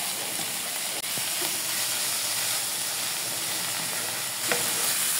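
Bottle gourd frying in a pan with sugar and salt, stirred now and then: a continuous close sizzle and hiss with a couple of sharp utensil scrapes against the pan.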